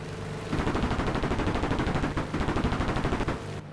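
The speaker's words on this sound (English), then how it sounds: "Listen to these new gun sounds." Rapid bursts of tank gunfire with a modded sound in War Thunder, the AMX-50 Foch in battle, fire dense and loud in near-continuous volleys for several seconds with no talk.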